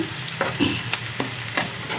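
Onions sizzle in a pan with a steady crackle, broken by several sharp scraping stirs of a utensil; no voices.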